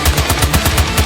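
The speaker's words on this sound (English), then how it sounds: "Mercy's pistol kinda goes silly in Kiriko's ult" Mercy's pistol in Overwatch 2 firing rapidly during Kiriko's ultimate, a fast, even string of about ten punchy shots close and loud, with no talking.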